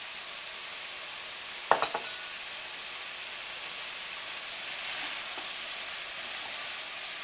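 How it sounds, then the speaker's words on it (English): Raspberries cooking in a pan give a soft, steady sizzle and hiss while being stirred. A brief cluster of sharp clinks from the utensil against the pan comes early, and no one speaks. "you want to stir this until the raspberries start to break down and turn into their own juices"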